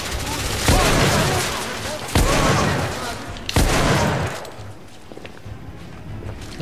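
Machine gun fire from the video game The Order: 1886 rips out in three loud, close bursts of rapid shots. Each burst is separated by a short pause, and a lower rumble and faint background noise follow the last one.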